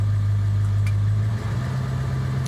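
A truck engine runs with its high idle switched on, giving a steady, close, loud drone whose pitch shifts upward partway through, with no talking.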